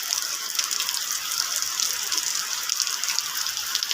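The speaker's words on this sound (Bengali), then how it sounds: "এই দেখো প্রচুর বৃষ্টি হচ্ছে" Heavy monsoon rain pours steadily around a house, a dense, continuous rushing wash of water that stays loud and even throughout, with no voices.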